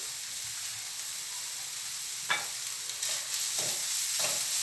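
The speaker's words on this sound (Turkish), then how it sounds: "bunu da tavamın içerisine hop sallıyorum." Ingredients tossed into a hot frying pan for a pasta sauce, a steady hiss of sizzling oil with several brief stirring scrapes and spatters.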